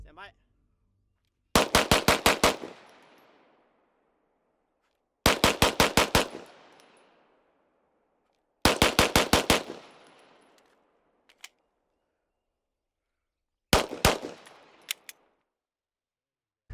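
Gunfire at a shooting range in four separate bursts of about five to seven rapid shots each, loud and close, with a faint pop between bursts and near silence in the gaps.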